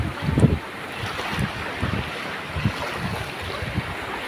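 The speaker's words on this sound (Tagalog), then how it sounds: "Ang lakas ng agos mga kaigib." A strong water current rushes and surges under gusty wind that buffets the microphone. Irregular low thumps and splashes rise and fall over a continuous, fairly faint roar.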